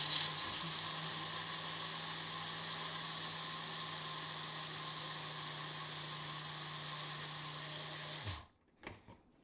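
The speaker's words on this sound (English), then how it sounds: "First thing I'm gonna do is grind all of this" A food grinder whirs steadily as it grinds quick oats and other ingredients, a constant high motor whine close by that cuts off near the end, followed by a few faint clatters.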